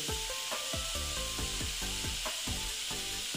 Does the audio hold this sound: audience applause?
no